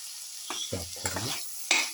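A spoon stirs potatoes, bottle gourd and tomato pieces in a hot pan, giving several short scraping, sizzling strokes over a constant hiss, close by and without voices.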